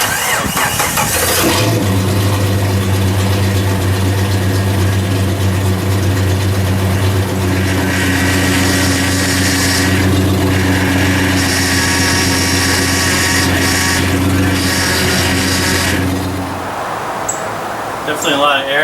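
A 1997-2006 Jeep Wrangler TJ engine cranks briefly and fires, then settles into a loud, steady idle with extra whine and churning noise from air in the power steering lines before cutting off near the end.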